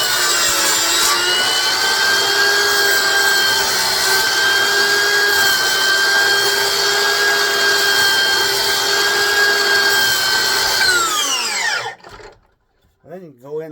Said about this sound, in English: there's a quick and easy way to do trenching with your miter saw